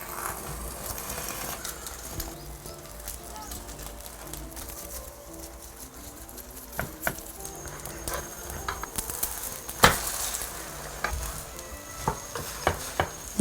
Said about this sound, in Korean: 계란물 부을게요